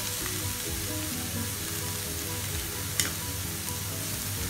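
Chicken pieces for cutlets fry in a pan with a dense, continuous sizzle, one brief sharper crackle partway through and no voices.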